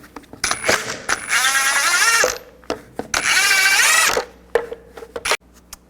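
Lug fasteners on a Chevy Silverado 2500 wheel are loosened with a 22mm socket on a power tool, two sustained whirring bursts of about a second each, set among sharp clicks and metallic clanks, loud and close with no talking.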